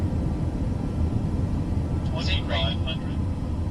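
Airplane engine in a flight video game as the plane comes in to land, a steady low droning rumble throughout, with a person talking over it near the end.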